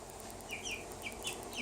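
Six-week-old chicks give a string of faint, high, rasping cheeps and squawks over a low steady background hum, the calls scattered and short.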